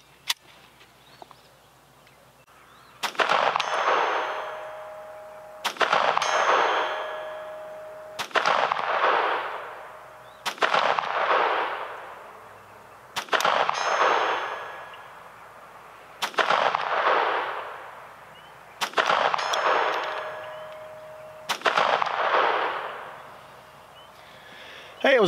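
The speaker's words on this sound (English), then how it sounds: "I loaded up 4 rounds of the Winchester and 4 rounds of the mini mags, and I'm gonna take a few shots of the 100-yard target" Seven sharp .22 pistol shots from a Taurus TX22 semi-auto fired at a 100-yard target, evenly spaced a few seconds apart, each a crisp crack with a ringing decay, close and loud in a quiet outdoor setting.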